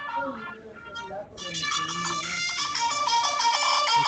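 A mobile phone ringtone plays a bright, repeating electronic melody that starts abruptly and continues over a conversation, with speech audible before it begins and underneath.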